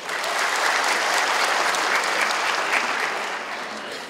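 A large crowd at a program launch ceremony claps in a full, sustained round of applause, loud and even throughout before tapering off near the end.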